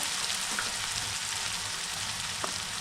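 Asafoetida and spices hit hot oil in a pan, giving a dense, continuous sizzle and crackle close by, with a couple of faint clinks, no talk.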